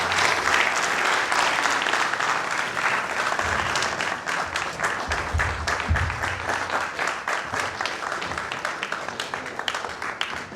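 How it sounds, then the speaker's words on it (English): Audience applause during an official working visit at an agricultural research institute in Oyo State, Nigeria, a steady wash of many hands clapping that thins slightly into more distinct claps toward the end. "I believe the years deserve another round of applause."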